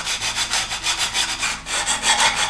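Sandpaper rubs back and forth over the wooden hull of a Flying Dutchman model ship kit, a steady rhythmic rasp of repeated strokes, close and fairly loud with no voices.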